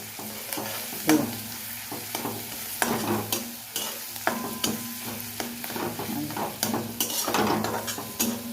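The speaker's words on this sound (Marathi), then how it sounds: "हा मसाला ना एकदा चांगला तेलात आपण भाजून घेणार आहोत" Masala roasting in oil in a pan for a stuffed ridge gourd dish, a low steady sizzle broken by frequent scraping and clinking stirs against the metal, close up.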